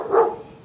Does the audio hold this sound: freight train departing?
no